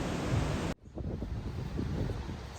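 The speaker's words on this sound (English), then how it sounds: "You can hear the river rushing below" A river rushes below a trail in a forest valley in Torres del Paine, Patagonia, heard as a steady, broad wash of water after a sudden cut in loud wind noise, continuing alone at moderate level.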